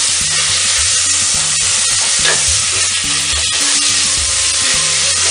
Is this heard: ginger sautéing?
yes